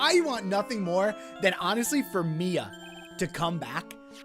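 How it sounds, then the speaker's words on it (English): A phone ringtone plays as a steady, repeating electronic tone beneath continuous conversation, with people talking over it throughout. "Sorry, that's my phone."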